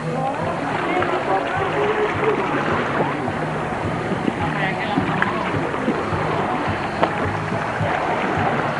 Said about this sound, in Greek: Έχει έρθει ένα σκάφος.